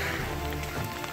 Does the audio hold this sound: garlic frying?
no